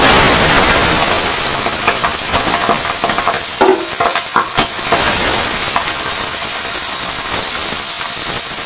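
Fish frying in hot oil in a wok: a loud, steady broadband sizzle throughout, with scattered crackles and spits and a few clinks of stirring, heard up close.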